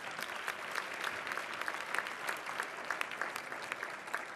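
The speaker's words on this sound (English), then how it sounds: "So please give her a big round of applause." An audience at a bar association installation ceremony applauds a community service award. The clapping is dense and continuous but fairly soft and distant.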